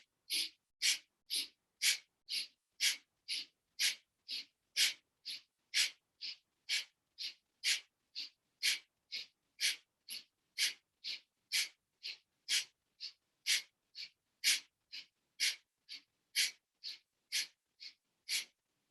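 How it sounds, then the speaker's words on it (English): Forceful pranayama breathing with sharp exhales through the nose, about thirty rhythmic puffs in steady succession over roughly nineteen seconds, close and clear with no talking. "exhale to the right through the nose, and keep the stomach muscles really strong"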